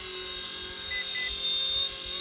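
A small RC ERA C184 MD500 model helicopter flies with a steady, thin, high-pitched motor and rotor whine. The sound is faint and constant throughout, with no voices.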